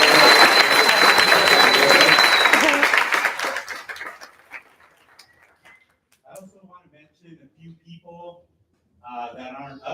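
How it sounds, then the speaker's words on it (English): Audience applause at a leadership program demo day, loud and full for a few seconds, then fading out while scattered voices and murmurs continue in the room. "Let's make sure we give a big round of applause for these people."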